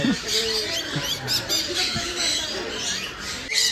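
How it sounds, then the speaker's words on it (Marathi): Shrill parrot squawks and squeaks repeat in quick bursts at an aquarium, mixed with faint voices and background chatter nearby. "हा पोपटाची जात"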